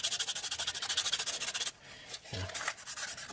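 Sandpaper rubbing around the bottom of a briar pipe bowl, a steady close rasping in rapid rhythmic strokes that stops partway, followed by quieter handling scrapes.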